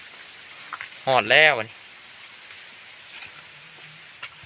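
Steady rain falling as a constant broadband hiss, with a short spoken phrase near the start.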